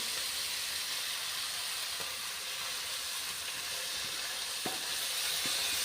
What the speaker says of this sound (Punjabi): ਹੁਣ ਐਡ ਕਰ ਦਾਂਗੇ ਧਨੀਆ ਮੇਥੀ ਨਾਲ ਹੀ ਐਡ ਕਰਕੇ ਇਹਨੂੰ ਵੀ ਨਾਲੇ ਪਕਾ ਲਾਂਗੇ